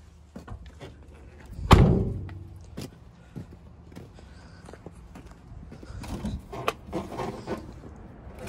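A single solid clunk as the hood release of a Nissan Rogue is pulled, followed by faint handling knocks and light rattles nearby.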